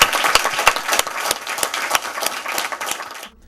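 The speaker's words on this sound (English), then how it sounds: "And another round of applause for everybody." A crowd of audience members applauding at a park community update event, dense close clapping that holds steady for a few seconds before cutting off abruptly.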